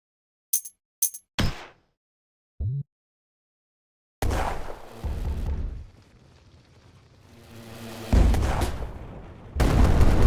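Bursts of gunfire and heavy booms during combat in the sci-fi game Rogue Station, sharp isolated shots at first, then dense sustained firing and blasts swelling loudly toward the end.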